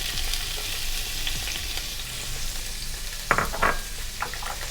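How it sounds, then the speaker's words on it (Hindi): Finely chopped capsicum frying in hot oil for spring roll filling, a dense close sizzle with a few scraping stirs and a brief metallic clatter near the end, no voices. "अब हम इसमें ना 1 कप शिमला मिर्च डालेंगे जो हमने ब्रीक ब्रीक चॉप की है।"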